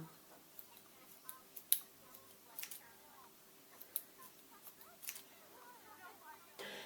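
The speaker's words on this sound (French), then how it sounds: "C'est quoi ces ciseaux qui coupent pas là?" Quiet, sporadic snips and clicks of dull scissors cutting hair close up, irregularly spaced, with faint murmuring in the background.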